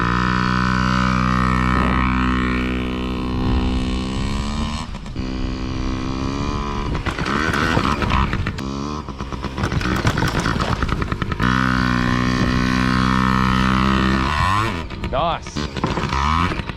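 A kid's dirt bike revs and idles near and loud while riding over logs, its engine rising and dropping in pitch with rough, uneven throttle bursts, and a voice talks over it.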